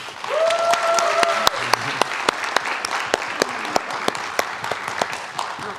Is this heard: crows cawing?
no